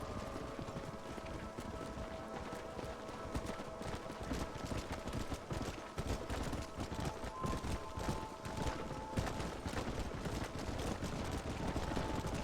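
Hooves of wild horses clatter steadily in Red Dead Redemption, a continuous fast clip-clop of galloping over open ground, fairly faint and unbroken throughout.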